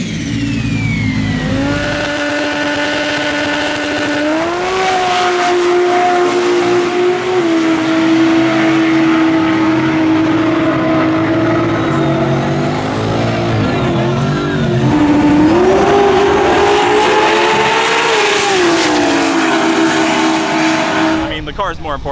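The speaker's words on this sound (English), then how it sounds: "Back here with Cooper and his 2JZ powered Camaro here." A 2JZ-powered Camaro makes a drag race pass at TRC Street Kings. The engine rises through loud, rising revs with gear changes, runs as one continuous close roar, then tapers off at the end.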